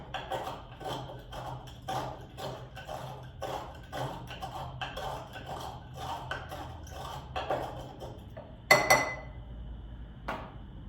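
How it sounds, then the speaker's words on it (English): A muddling tool grinds sugar and black walnut bitters in a glass for a smoky old fashioned, producing steady rhythmic taps and scrapes close by, ending with a louder clink and a final knock. "I'm going to take my muddling tool, I'm going to grind the sugar up in there"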